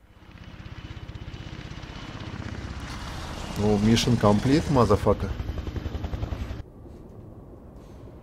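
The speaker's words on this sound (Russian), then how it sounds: "Босс посылает за агентом личный вертолет." A helicopter in the video game Beyond: Two Souls gives a steady rotor and engine drone through the clip, joined by game sounds and a man's speech partway through. The drone drops to a quieter hum near the end.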